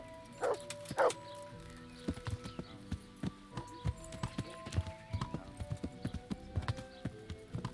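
Horse hooves clip-clop in the Kingdom Come Deliverance video game, a steady run of light rhythmic steps at moderate distance, opened by a couple of louder calls, with faint game music beneath.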